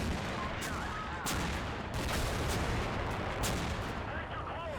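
Mortar fire in a video game battle as a city is bombarded, with dense overlapping booms and cracks in a continuous barrage. A voice talks underneath and whistling tones are scattered through it.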